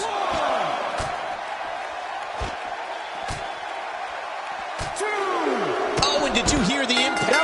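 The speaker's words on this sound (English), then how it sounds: "Another electric crowd on hand here for SmackDown" A roaring arena crowd in the wrestling game WWE 2K16 cheers throughout a SmackDown show, a steady wash of noise with sharp slams and whoops scattered through it, while a commentator talks over it.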